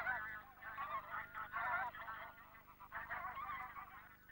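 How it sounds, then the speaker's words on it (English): Bean geese give repeated deep, nasal honking calls in a steady series of overlapping notes, moderately close and clear against a quiet background. "Their calls are deeper, more nasal than those of pink feet."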